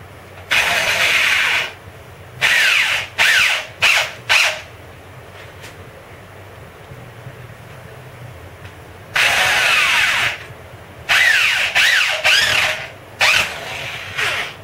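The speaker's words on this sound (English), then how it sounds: "1-inch drywall screw at an angle to hold this in." A power drill driving a one-inch drywall screw at an angle into a drum trigger mount, several loud, close whirring bursts of varying length separated by quiet pauses.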